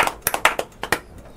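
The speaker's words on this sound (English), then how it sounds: "Let's give Pops a clap for you." A few people clapping in a small room, sparse irregular hand claps close by, about eight sharp hits in a second and a half with no talking.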